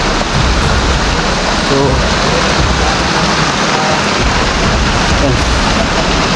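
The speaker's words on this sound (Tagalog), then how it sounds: "So, yan bro, yan, ulan na. At ulan na dumarating." Heavy rain pours steadily in a hilly area prone to landslides, a loud, dense, continuous hiss close by, with someone speaking briefly over it.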